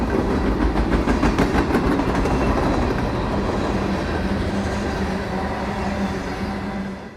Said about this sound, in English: The head-end pickup at Reading is easily identifiable by cars off of the Reading and Northern, including this block of empty reefers and boxcars